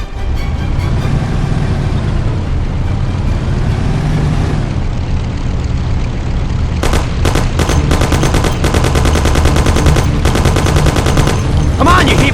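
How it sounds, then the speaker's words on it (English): Rapid bursts of Thompson submachine gun fire from the Mafia video game crackle loudly over a steady engine rumble, growing denser in the second half of the stretch. "Take my Thompson. You and Sam shoot them"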